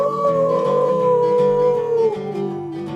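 A man imitates a dog's howl with his voice, a single long sustained wail that slowly falls in pitch over about three seconds, close and loud, with no other talk.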